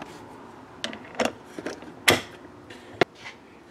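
A socket is fitted onto a Quinn digital torque wrench, giving a few short separate clicks and clacks of metal parts seating, close and alone, ending in one sharp snap.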